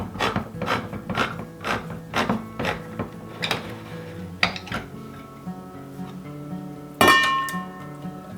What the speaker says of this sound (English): where's my can opener?